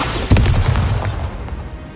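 Bombarda explosion spell blasting in Hogwarts Legacy: one sudden booming burst with a deep rumbling tail that fades over about a second, heard alone with no talk.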